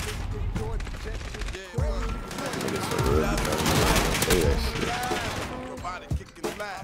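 Rapid automatic gunfire in the video game Arc Raiders: dense, loud, continuous bursts of shots that pile into a steady rattle with brief gaps, while people talk over it.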